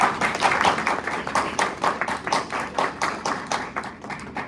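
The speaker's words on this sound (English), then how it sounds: "Let's give our candidates a round of applause." Audience gives a round of applause for candidates at a council speakout event, a steady patter of claps from a modest crowd, moderately close and fading slightly toward the end.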